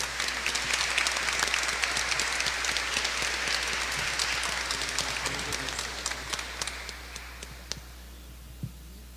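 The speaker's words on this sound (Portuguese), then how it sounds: "Uma salva de palmas para eles." Congregation applauding at a Catholic Mass in a sanctuary, sustained loud clapping from many hands that gradually thins out toward the end.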